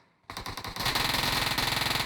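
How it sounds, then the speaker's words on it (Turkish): Automatic gunfire in the PUBG Mobile video game crackles loud and close, starting with a few spaced shots and then settling into a rapid, continuous burst. "Çok silah sesi var yine her zaman olduğu gibi."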